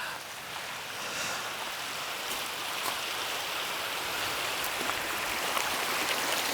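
Clear water in a stream at a campsite makes a steady rushing wash, with a broad, even flow and a few small splashes near at hand, and no talk over it.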